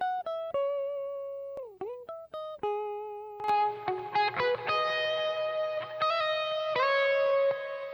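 Overdriven electric guitar plays a lead line with sustained, bending notes, then a busier run of notes washed in reverb, processed through a noise gate, overdrive, compression and EQ.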